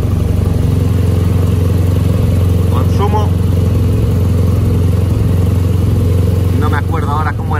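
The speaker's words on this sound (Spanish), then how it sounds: "Me monto en la moto. La pata la retiro. Y esto se arrancaría tal que así." A Cafe Racer SSpirit motorcycle engine runs loud and close at a steady low idle, a constant rumbling drone with a couple of brief voice-like bursts over it.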